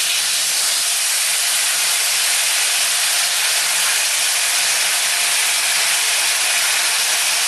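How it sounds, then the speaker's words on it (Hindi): Chicken manchurian hits a very hot sizzler plate and sets off a loud, steady hiss of sizzling that holds at an even level throughout, with no one talking over it. "देखिए कितना अच्छे से सिजल कर रहे हैं।"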